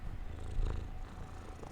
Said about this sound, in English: Oh, the cat's purring again.